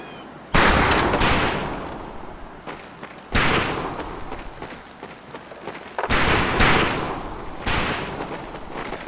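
Rifle gunfire on a shooting range in Medal of Honor: Pacific Assault, four loud close shots spaced a few seconds apart, each with a long ringing decay, with no talk.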